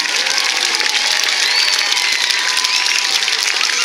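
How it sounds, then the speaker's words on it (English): A large outdoor crowd, including students, at a homestead restoration celebration breaks into loud, sustained applause with scattered cheers, dense and continuous throughout. "Let's give them a round of applause that they can hear all the way downtown"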